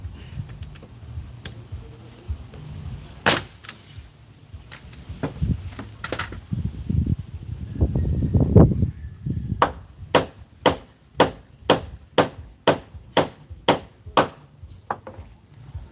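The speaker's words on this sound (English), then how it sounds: "I'm going to nail this solid." Hammer blows driving nails into wooden steps during outdoor step building: after some scattered knocks and scuffling, a steady run of about ten sharp, evenly spaced strikes rings out loud and close.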